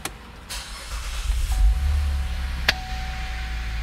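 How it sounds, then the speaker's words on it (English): A 2013–2017 Cadillac SRX engine cranks and catches, a low rumble swelling to a steady idle, while a thin electronic tone sounds alongside. "we are gonna go ahead and fire this thing up"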